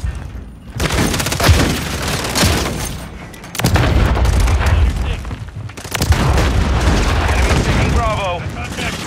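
Grenade blasts in a video game shooter come as loud, booming detonations, three heavy bursts spaced a couple of seconds apart with gunfire and voices mixed in.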